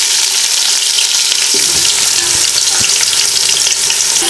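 Onions, 350 grams, sizzle and fry in hot oil with whole spices for a veg biryani, a steady dense crackle with occasional stirring clatter throughout, no talking.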